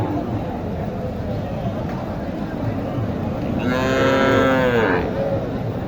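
A cow at the Mataji cattle market in Naogaon lets out one drawn-out, fairly close moo, rising out of a steady crowd murmur and background hum of the busy market.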